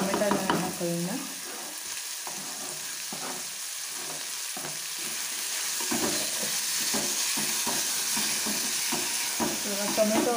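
Onion and tomato fry and sizzle in a pan for egg bhurji, with a steady hiss broken by repeated scraping stirs of a spatula, close and moderately loud.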